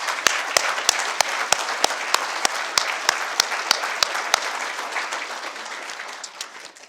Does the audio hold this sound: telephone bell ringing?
no